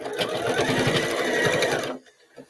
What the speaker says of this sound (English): Decorative stitches, when they back up, can do different things depending on your machine.